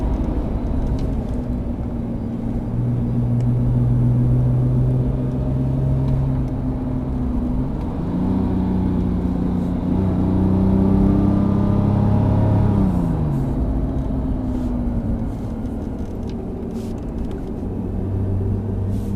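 A car accelerating on a driving course, a sustained engine drone that rises and swells in pitch, dips briefly, then climbs again, loud and continuous from start to finish.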